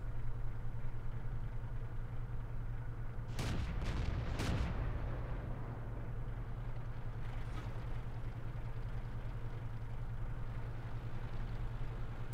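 An M10 Wolverine tank firing in World of Tanks: two sharp, heavy cannon reports a second apart, standing out over a steady low engine idle that continues alone afterward.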